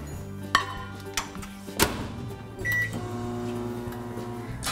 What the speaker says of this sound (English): So I just melt white chocolate at 30-second intervals, take it out of the microwave